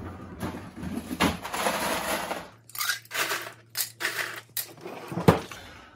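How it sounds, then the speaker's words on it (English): Ice for a cocktail rattles and crunches close by, first a scooping scrape, then a run of distinct clinking clatters with a sharp knock near the end, heard alone without talk. "Now we need ice."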